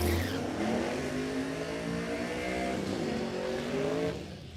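A Toyota Corolla drag car with a 3RZ engine roars down the strip at Warwick Dragway in Australia, a loud sustained rising engine howl with dense harmonics that holds for about four seconds before dropping off.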